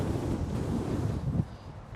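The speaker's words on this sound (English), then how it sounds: "Now the wind is well over 20 miles an hour." Strong outdoor wind blowing at over 20 mph buffets the microphone with a low, rumbling roar. It is loud and gusty at first and eases off toward the end.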